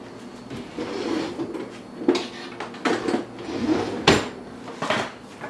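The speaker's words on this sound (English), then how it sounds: "I'm going to find myself a can opener, get the tomatoes ready to go" Metallic clatter of tomato cans and a hand-cranked can opener, with irregular clicks and clunks at close range, no talking.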